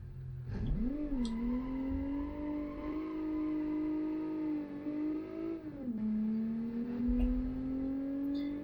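A boxer-engine car in the BeamNG driving game, its engine droning steadily as it drives straight ahead, the pitch rising and holding, then dipping with a gear change and climbing again, with no talk.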